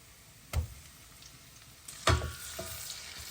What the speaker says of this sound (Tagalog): Magluto tayo ng buttered shrimp